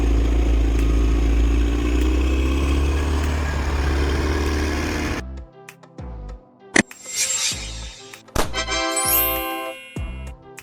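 A motor grader engine drones with a loud, steady low rumble for about five seconds before it cuts out and light tinkling, jingling sounds take over.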